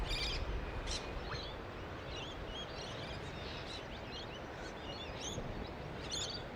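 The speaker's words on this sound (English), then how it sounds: "We have birds flying overhead." Birds call overhead in a sunlit forest, giving scattered, faint chirps and short tweets over a low steady background hush, with no voices.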